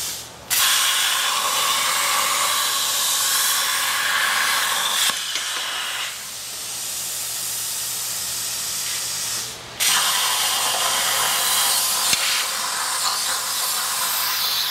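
Steel being cut by a CNC plasma torch on an RC6 rotary cutter, a steady loud roaring hiss that runs continuously, dipping briefly twice as the arc pauses and restarts.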